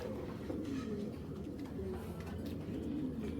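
A Giribaj tournament pigeon coos in soft, low, repeated throaty calls, close by and fairly quiet over a faint steady background.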